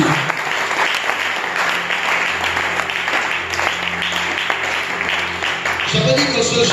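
A church congregation applauds in a sustained, dense wave of clapping that fills the room steadily from start to finish, with a voice faintly audible over the applause.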